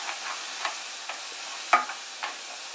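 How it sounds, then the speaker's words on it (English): Meat frying in a pan on medium heat for a stuffed summer squash recipe, with a soft, steady sizzle, close up, and a few light stirring scrapes and ticks. "cook it for about 10 minutes. Until the fat dissolves and it's cooked almost all the way through."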